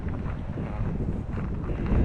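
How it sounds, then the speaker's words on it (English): Low, rumbling buffets of wind batter a microphone continuously at a campsite with trees, a muffled roar that swells and eases with gusts. "I don't know if the wind is coming through the mic, but it's still windy in the trees"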